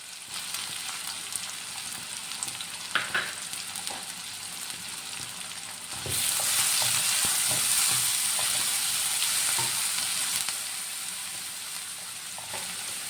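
Onion fries in a pan with ginger, green chilli and curry leaves for Kerala chicken cutlets, a continuous sizzle that swells sharply midway, with occasional stirring knocks, heard alone without speech.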